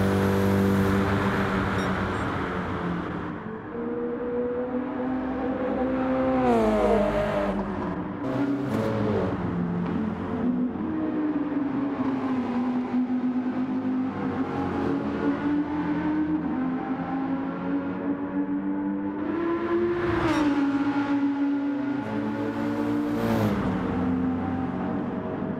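Gr.3 race cars at Watkins Glen during a Gran Turismo 7 Nations Cup online race: loud, continuous engine drone with revs rising and falling through gear shifts, sustained throughout with no talking.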